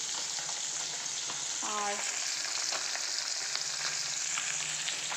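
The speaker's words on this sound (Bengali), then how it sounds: "আর এই যে এদিকে মাছগুলো ভেজে নিচ্ছি।" Fish fry in a pan with a continuous dense hiss and crackle. Near and even throughout, with a single short spoken word over the sizzle.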